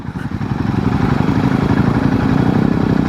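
A Royal Enfield Himalayan 450 single-cylinder motorcycle runs close by, its engine throbbing in a low, steady idle as the gearbox is shifted into neutral, with no talking.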